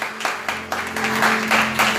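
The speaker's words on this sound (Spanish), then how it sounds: "Un aplauso al Señor esta mañana o tarde mejor." A church congregation claps in uneven bursts, a fairly loud crowd of hands with repeated waves of clapping over a low sustained hum, no talk heard.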